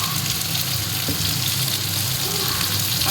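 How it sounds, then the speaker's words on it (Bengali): Poppy seed paste fries in a pan for a potato and pointed gourd curry, making a loud, unbroken close-up sizzle that lasts the whole moment. No one speaks. "পোস্ত টোস্তগুলো মিক্সড করে করে নিয়েছি এটা হালকা করে ভেজে নিয়ে"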